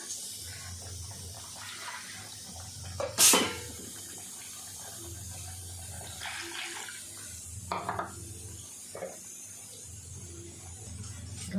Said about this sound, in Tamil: இப்போ நமக்கு எவ்வளோ தேவையோ அவ்வளோ தண்ணி ஊற்றிக்கலாம்